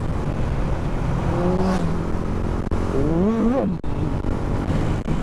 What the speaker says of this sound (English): just drop it down a gear, pin that throttle, and you know, it takes off.